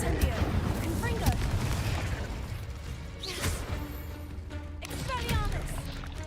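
Spell blasts from the Confringo explosive charm in the Hogwarts Legacy video game, a few loud booming bursts over a dense, rumbling game soundscape with a voice speaking over it.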